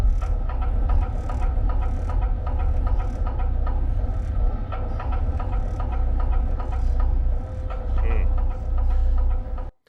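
A steady, dense mechanical rumble with a low droning hum and faint metallic clicks, an abstract revving X-ray machine effect from the TV drama Breaking Bad, loud and continuous before cutting off abruptly.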